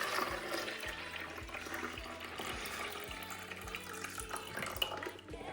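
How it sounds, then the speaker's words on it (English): Water splashes and trickles steadily into the reservoir of a drip coffee maker for several seconds, a close, continuous pouring sound with faint clinks underneath. "Let's pour that in."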